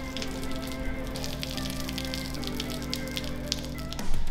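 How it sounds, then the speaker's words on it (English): Steady rain falls during a storm, a dense patter of drops on surfaces continuing throughout, with a bump of louder noise near the end. "The rain has started up again."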